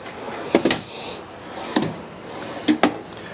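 Full extension drawers in a 2018 Forest River Work and Play toy hauler trailer are pulled and pushed, giving three sharp slide-and-thud bursts spaced about a second apart over a quiet room.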